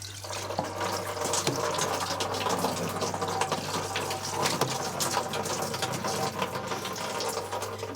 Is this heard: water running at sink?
yes